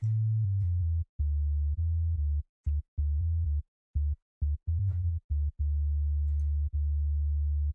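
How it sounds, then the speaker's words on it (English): A deep synthesized sub bass sine tone in a dubstep track plays in short stuttering notes that shift pitch, with brief gaps between them. "So if I take this off, this is a sub wave."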